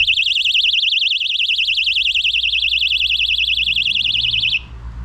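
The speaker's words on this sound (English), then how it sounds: "Pretty decent little alarm system here, even with your little flashlight." A personal safety alarm shrieks loudly and continuously, a rapidly warbling high-pitched siren that holds steady for several seconds and then cuts off abruptly.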